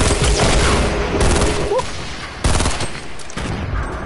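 Grenade launcher fire in the video game Fortnite, a loud, close run of rapid blasts and shots with sharp bursts near the start, midway and toward the end, and no talking.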